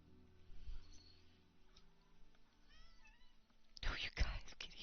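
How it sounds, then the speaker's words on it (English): Cats meowing in a NieR Replicant game scene, several soft, faint mews scattered across a quiet background, with a louder burst of voice near the end. "All the meow meow kitties sounds."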